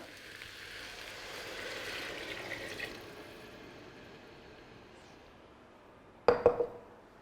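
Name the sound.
water poured into pot for soup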